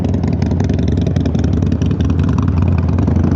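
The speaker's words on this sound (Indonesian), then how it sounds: "semoga nggak terlalu kebisingan sama suara knalpot kedua Harley di depan" Two Harley-Davidson motorcycles, a Forty-Eight and a Seventy-Two, rumble loudly and steadily up close, their deep exhausts throbbing with a slight rattle throughout.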